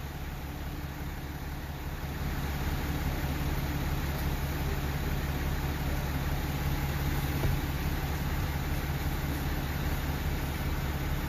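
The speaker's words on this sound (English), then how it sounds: "Again, the engine's running." A 2016 Ram 2500 with a 6.7L diesel engine runs steadily, a constant low hum and broadband drone held at an even level throughout, with no talking over it.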